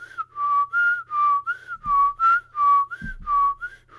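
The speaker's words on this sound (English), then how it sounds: "I whistle by blowing in and sucking." A person whistles a quick series of about nine short, bright notes in a steady, bouncy rhythm, close and clear with no talking.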